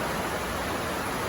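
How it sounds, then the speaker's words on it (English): Rain drums on the metal roof of a barn as a dense, even hiss with no breaks, loud and close, and no voices. "It's raining, we're in the barn, it's got a metal roof"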